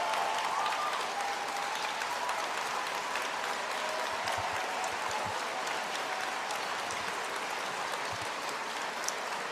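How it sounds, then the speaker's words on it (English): An audience at an evening event gives a massive round of applause, steady dense clapping that fills the room throughout, with no talk. "how about a massive round of applause for someone who gave her farewell speech in the House tonight, Carolyn Bennett."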